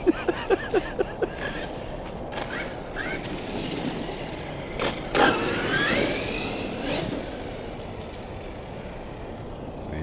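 A Redcat Shredder RC truck motor whirs and revs up close after a few sharp clicks, holding a loud, rising mechanical whine before fading back.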